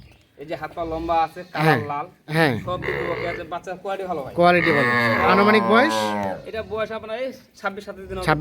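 Cows at a cattle market give long, loud moos one after another, close by, with people talking in between.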